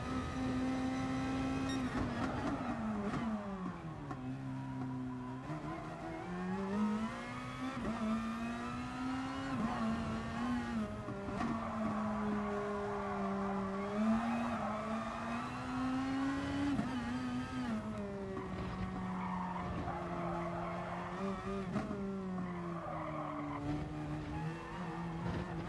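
A GR.2 race car in GT Sport revs hard at Catalunya in a continuous, steady engine drone. The pitch climbs and dips with each run through the gears, and the engine stays loud throughout with no speech.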